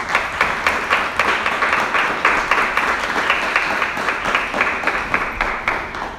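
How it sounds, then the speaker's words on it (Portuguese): A church congregation claps together in steady, rhythmic applause that keeps going evenly for several seconds at a moderate distance. "vamos aplaudir a palavra de Deus"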